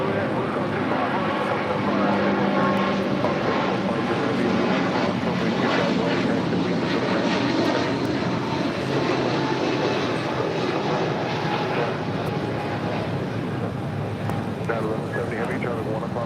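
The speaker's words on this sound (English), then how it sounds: "1170 now rolling, headed out to Honolulu on this 777-200" A Boeing 777-200 jet rolls down the runway for takeoff at LAX, bound for Honolulu, producing a steady, loud, broadband engine roar that holds throughout.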